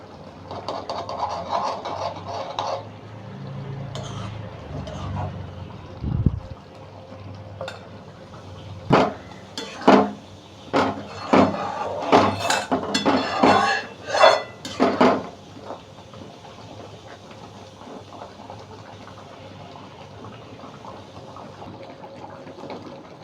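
A spoon scrapes and clatters in a cooking pan as paneer butter masala with garam masala and a little ghee is stirred, with a burst of repeated sharp metallic knocks in the middle before the sound settles.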